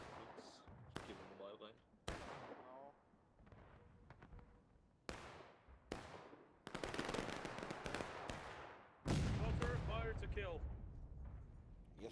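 Musket volleys in the War of Rights Civil War game at Saunders Field: loud ragged bursts of rifle fire crackle in repeated waves, with shouted commands and voices between the salvos.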